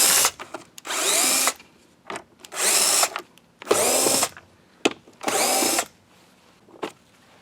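A power drill whirs in four strong bursts of about a second each, separated by pauses with a few brief taps and short spins, while servicing a Bissell Powerforce vacuum cleaner.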